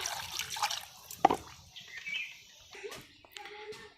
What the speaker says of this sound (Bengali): তো মাছটা ভালোভাবে ধুয়ে নিলাম